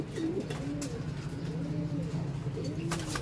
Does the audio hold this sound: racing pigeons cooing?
yes